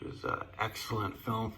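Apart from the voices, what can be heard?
No everyday noises stand out.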